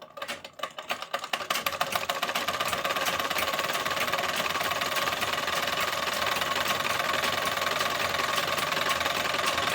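A sewing machine stitches fabric at speed, a dense rapid needle clatter that starts with a few stuttering strokes and then runs steady and close for the rest of the clip, with no talking.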